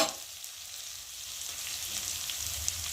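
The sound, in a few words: onions frying in a pan with a little salt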